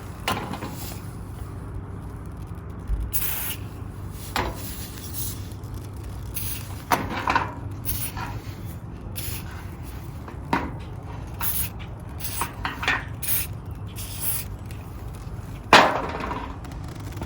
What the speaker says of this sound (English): Okay, got some silicone lubricant.